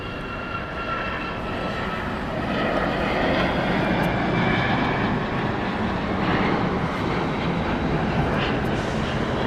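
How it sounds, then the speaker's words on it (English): United Boeing 737 Max 8 jet taking off from LAX, a steady broadband engine roar that swells and holds loud throughout, with no talking. "Next takeoff, United 1416 to Houston, 737 Max 8."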